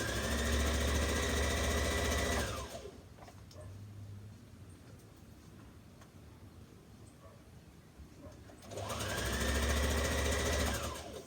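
A sewing machine stitching a dress runs loudly with a steady motor whir, stops for several seconds of quiet handling, then starts up again at the same steady pace.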